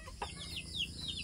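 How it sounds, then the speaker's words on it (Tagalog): Backyard chickens on a Philippine province homestead cluck softly in short, scattered calls over a steady low background, with a couple of higher squawks rising now and then. "Ang aming mga manok."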